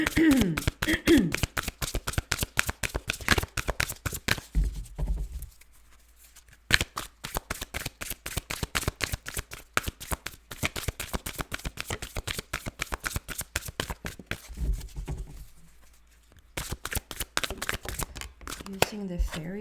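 A fairy tarot card deck is shuffled in a long run of rapid, crisp riffling flicks with brief pauses, close and fairly quiet, while a person talks softly at times.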